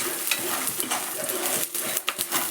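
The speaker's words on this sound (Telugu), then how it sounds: "ఇప్పుడు వెల్లుల్లి రెబ్బలు, జీలకర్ర కూడా వేసుకొని ఫ్రై చేసుకోవాలి." Ivy gourd frying in a pan with garlic cloves and cumin: a dense, continuous sizzle and crackle, close and loud, with a few stirring scrapes near the end and no talking.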